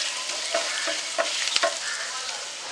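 Potatoes with turmeric sautéing in a pan for a Maharashtrian puri bhaji, a steady close sizzle broken by a few soft stirring scrapes, with no talking.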